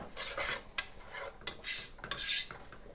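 A spatula scrapes and rubs through a flour paste with butter and vegetables in a pan, making soft rasping strokes in uneven bursts with a few light clicks of utensil on metal.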